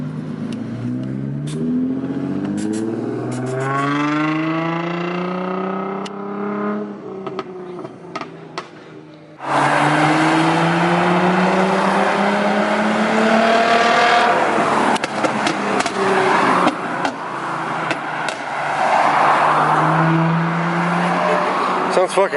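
Nissan G35/350Z with modified exhaust revving hard, engine note rising and falling in sweeping pitch bends, loud and close, with a sharp jump in level midway and crackling bursts through the revs.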